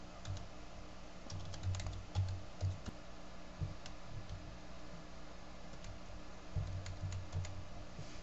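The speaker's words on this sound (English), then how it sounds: "Double click there and start typing." Keys clatter on a computer keyboard while text is entered in OpenOffice, making quiet, close taps in short irregular bursts over a faint background hum.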